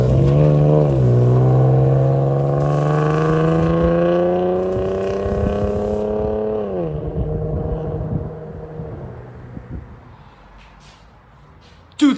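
A 2014 Chevy Camaro with a 3.6L V6 and an aftermarket loud exhaust revs hard and close, its pitch climbing steadily for several seconds before dropping back to a rough, fading idle.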